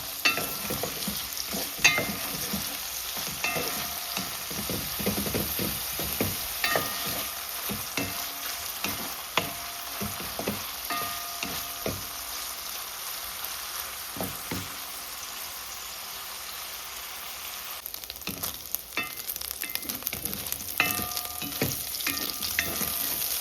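Sausages crisping in hot oil for a meal with baked beans and fried dumplings crackle and spit steadily for a long stretch, with frequent sharp pops and occasional utensil knocks, loud and close, no voices.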